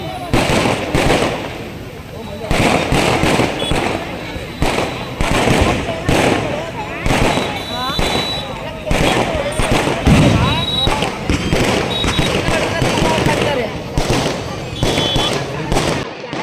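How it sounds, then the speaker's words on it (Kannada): Firecrackers and fireworks at a Ganesh immersion festival crackle and pop in rapid, loud, repeated bursts throughout, with voices heard amid the bangs. "ಫುಲ್ಲು ಪಟಾಕಿ ಶೋದೆ ಹಾಕಿದ್ದೀನಿ"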